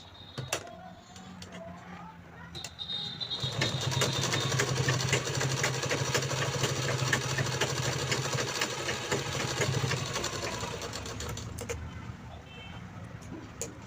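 An electric sewing machine stitches the second side of a handmade purse handle, its motor whirring in a steady, continuous run for several seconds before easing off, with soft clicks at the start and end.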